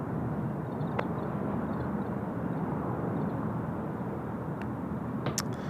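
Asiana Airbus A380 at Seoul Incheon Airport beginning its takeoff roll, a broad, steady engine rumble and roar heard from a distance, with a few faint clicks on top.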